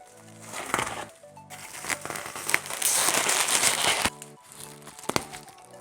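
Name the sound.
unboxing a camera gimbal, packaging crinkling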